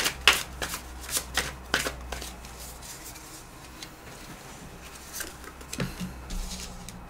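Tarot cards being shuffled by hand, a run of crisp riffling flutters and soft snaps that come in bursts and then thin out to quieter sliding, close and fairly soft with no voices.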